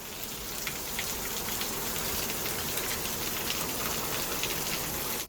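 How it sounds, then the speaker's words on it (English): Heavy rain pours down steadily in Okinawa, Japan, a dense hiss of drops pattering on surfaces with no other sounds. "it suddenly started pouring rain"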